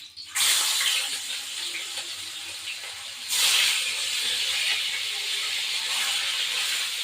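Catla fish pieces frying in hot oil with ginger and green chilli paste, a loud, dense hiss that bursts in as the fish hits the oil and swells again a few seconds later, with no talk.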